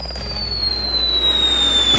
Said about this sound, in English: Lots and lots of fire.